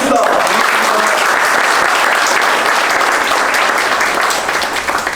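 Loud, dense applause from an audience of around fifty people at a construction workers' union youth meeting, sustained throughout and fading slightly at the end.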